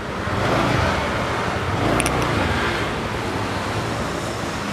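A TVS NTORQ 125 scooter engine runs steadily up close, a continuous broadband rumble with a constant loudness and no talking.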